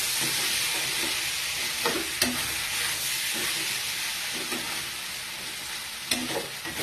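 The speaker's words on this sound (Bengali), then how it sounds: "পাতিলেবুর রস ওপর থেকে ছড়িয়ে দিয়ে আর একটু নাড়াচাড়া করে" Crispy sweet corn is stirred in a pan with a steady, close hiss of frying and a few light scraping knocks from the utensil, with no talking.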